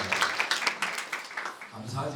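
A congregation at a church lecture applauds with a brisk run of scattered hand claps that fades after about a second and a half, giving way to a low murmur.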